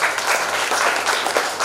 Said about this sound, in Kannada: ಅಧ್ಯಕ್ಷರು ನೀವೆಲ್ಲ ಚಪ್ಪಾಳೆ ತಟ್ಟಬೇಕು.